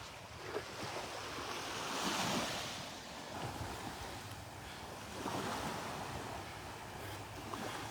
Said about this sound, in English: Walking the beach in the morning.